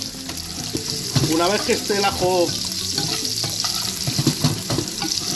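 Lamb sweetbreads and garlic frying on high heat in a pan, a loud continuous sizzle with scraping stirring strokes throughout, while someone speaks briefly in Spanish over it.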